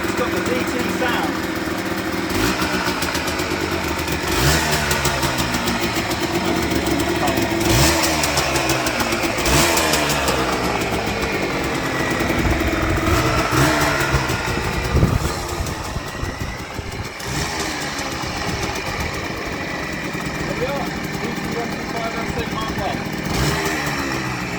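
A 1982 Yamaha DT125 LC MK1 two-stroke motorcycle engine runs continuously close by, loud and buzzing, idling with repeated rises and falls in revs across the whole stretch.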